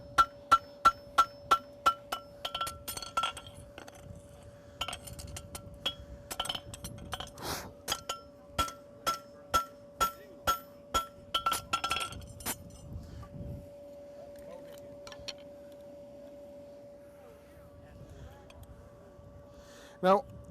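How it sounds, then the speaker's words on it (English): Hammer blows ring out on an anvil as a horseshoe is forged: sharp, evenly spaced metallic strikes, each with a bright clink, for about twelve seconds, then a quieter stretch with a sustained ring and a few light taps. "Work the edges, overlapping your hammer blows"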